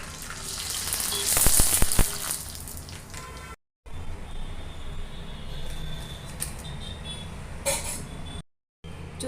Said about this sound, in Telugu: ఇప్పుడు ఫ్రై చేస్తున్నానండి.